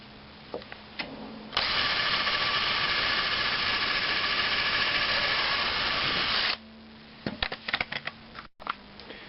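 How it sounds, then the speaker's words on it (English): A power drill pre-drills holes for lag bolts in the wooden corners of a raised garden bed. It gives one steady, loud, close whine for about five seconds, with clicks and handling knocks before and after. "So now I'll just pre-drill those in all of my corners"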